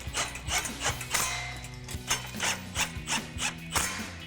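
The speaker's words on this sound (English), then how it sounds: "take a 14mm socket and wrench to tighten down" Socket wrench ratcheting in repeated short clicking strokes while 14mm exhaust hardware is tightened on a RAM 1500 Pypes dual exhaust install, close and fairly quiet with a steady rhythm.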